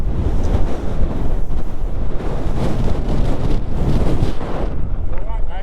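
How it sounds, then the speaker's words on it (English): Strong wind buffets the microphone outdoors by the water during a Yamaha R7 motorcycle outing, a loud continuous roar of gusts with waves or surf mixed underneath and no clear talk. "So windy."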